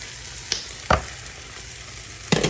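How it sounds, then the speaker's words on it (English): Corn, zucchini and scallion whites cooking in a pan, a low steady sizzle broken by three sharp scraping knocks of stirring, close by and alone. "So my corn, zucchini, and scallion whites have been cooking."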